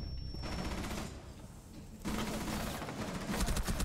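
Bursts of automatic gunfire on the Kanal map in the video game Rainbow Six Siege, with one rattling volley, a short pause, then longer sustained firing.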